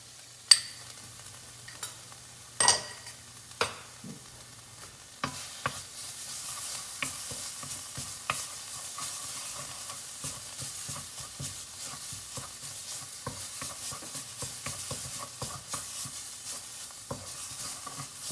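Ginger, garlic, cumin and coriander toast in a pan for creamy coconut lentils with spinach. A few sharp knocks and scrapes of stirring come first, then a steady, soft crackling sizzle runs throughout with occasional clinks of a utensil.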